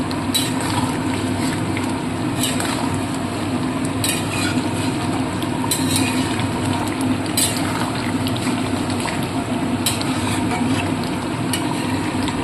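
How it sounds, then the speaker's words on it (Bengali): Fried spice mix stirred into a boiled, broken-up potato curry for aloor dom, with a pan sizzling steadily and a spoon scraping and knocking in an uneven rhythm close by. "এবার আমি দিয়ে দেব ভাজা মশলাটা।"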